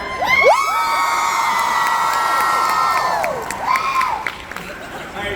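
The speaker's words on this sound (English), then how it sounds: "So every time I say something, you're all going to scream." A convention panel audience at San Diego Comic-Con screams and cheers loudly throughout, with high shrieks and whoops rising and falling across the hall.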